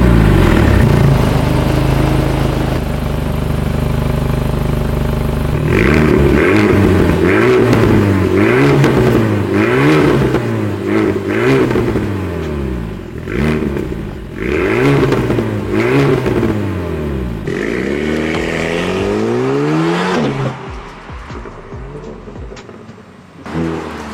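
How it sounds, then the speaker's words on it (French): An Alpine A110 S with a stock 1.8-litre engine, warmed up, revs repeatedly, rising and falling in pitch with sharp throttle blips, loud and close, then settles to a lower idle. "je vais démarrer, la voiture est chaude, je vais mettre des coups de gaz"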